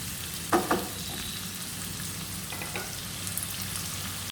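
Sliced onions fry in hot oil for prawn biryani, a steady close sizzle with a couple of sharper spatters and stirring clinks near the start, no voices over it.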